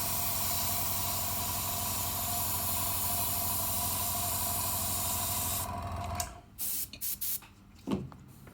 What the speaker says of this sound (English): if you paint with an airbrush, you gotta thin your paint